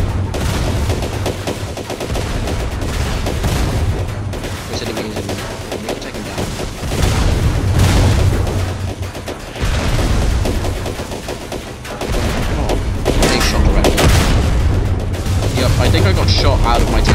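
Heavy tank cannon and gunfire from a combat video game, a dense run of loud booming blasts and rattling shots that rises and falls in waves, with a voice talking over parts of it.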